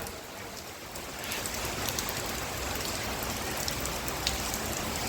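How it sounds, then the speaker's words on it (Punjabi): Steady heavy rain pours down in Rajasthan in a dense, even hiss, picking up slightly after the first second and continuing without pause. "ਲਗਾਤਾਰ ਹੋ ਰਹੀ ਬਰਸਾਤ ਰਾਜਸਥਾਨ ਦੇ ਵਿੱਚ ਤੜਕੇ ਦੀ ਹੋ ਰਹੀ ਹੈ"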